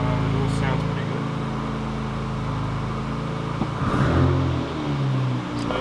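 A Toyota 1JZ engine swapped into a Hilux idles with a steady, deep, loud rumble throughout. Someone talks over it.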